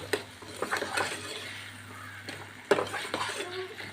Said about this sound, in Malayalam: നല്ലപോലെ ഒന്ന് വഴറ്റിയെടുക്കാം